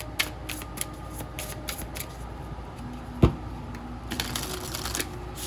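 A tarot deck with smooth cardstock is shuffled close up, giving rapid flicking and riffling bursts at the start and again near the end, with a soft knock between them and no talking.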